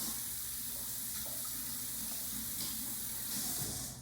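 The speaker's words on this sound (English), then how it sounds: "you come over to the sink, you run a little bit of water over them" Kitchen sink tap runs steadily over grape tomatoes, a close, even hiss and splash of water that holds for a few seconds, with no talking.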